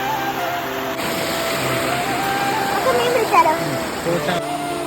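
Water from a stream near a small home with flowers rushes and splashes continuously in the foreground while people talk over it.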